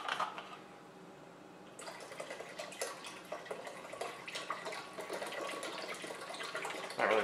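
Remaining developer liquid being poured into a pot while treating yellowed plastic, a steady splashing trickle that starts after a quiet moment and runs continuously at moderate level, with a few small clinks.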